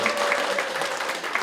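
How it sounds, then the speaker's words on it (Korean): Audience at a talk concert applauding for a lawmaker, a steady wash of clapping with a faint tone and voice underneath, brief and continuous. "박수 한번"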